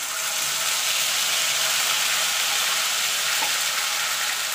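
Steady, loud sizzling of green chillies and ginger paste frying in hot oil, a continuous hiss close up with no pauses or voices.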